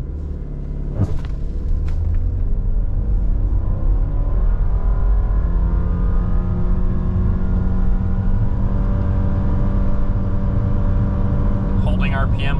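A 2023 Subaru Forester Sport accelerates hard from a standstill toward 60 mph, its engine rising and holding a steady droning pitch under continuous loud road rumble from inside the cabin.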